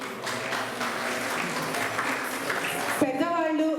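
An audience at a Navratri Mahotsav temple celebration in Kushaiguda claps in steady applause for about three seconds, then it cuts to a sustained tonal musical sound.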